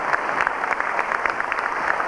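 Audience applause at a 1994 jazz festival, a dense, steady wash of many hands clapping close by, with scattered sharper claps standing out and no talk over it.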